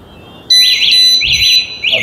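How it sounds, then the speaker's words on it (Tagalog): A Fiido electric scooter's extra alarm gives a loud, close, warbling siren, rapid rising and falling chirps repeating in quick bursts with brief gaps between them. "Ayan, additional alarm."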